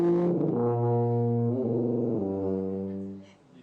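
A tuba mimicking loud snoring in a TV studio: one long, deep, buzzing brass drone with a slight bend midway, loud and close, fading out at the end with no talk over it.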